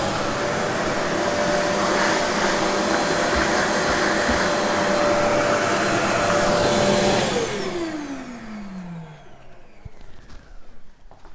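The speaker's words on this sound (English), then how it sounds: "So actually I want to get the vacuum cleaner here." A vacuum cleaner runs loud and steady in a workshop where classical or flamenco guitar rosette tiles are being worked on, then switches off and its whine winds down, leaving faint handling noise.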